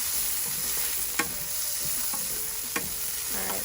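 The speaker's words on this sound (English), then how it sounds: "And we're going to stir these around for a minute. See, the onions are getting nice and golden." Onions sizzle steadily in hot oil in a pan, where they are being cooked as the base for an eggplant, tomato and spinach sauce. A spoon knocks and scrapes against the pan a couple of times while they are stirred, and no one talks.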